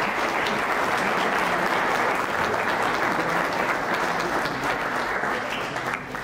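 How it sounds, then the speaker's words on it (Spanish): An audience at an academic lecture on 2020 tax reforms gives a loud, dense round of applause, sustained and even before tapering slightly at the end. "Les pido que al final lo recibamos con un fuerte aplauso"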